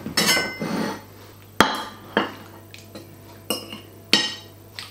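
Dishes clink and knock as Lancashire hotpot of mutton and potato is served up, with several sharp separate hits spaced about half a second to a second apart, each ringing briefly, close and fairly loud over a quiet steady hum.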